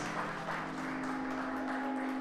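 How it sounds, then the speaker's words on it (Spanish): Wedding guests on a dance floor in Yurécuaro, Michoacán, Mexico clap in a continuous, even wash of applause, with a steady low musical tone sustained beneath it. "Que se escuchen fuerte, fuerte los aplausos"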